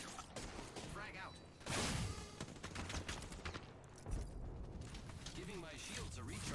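Rapid gunfire from a firefight in Apex Legends plays as dense, overlapping bursts with mechanical clicks and clanks. It sits in a busy mix, and a voice can be heard speaking through parts of it.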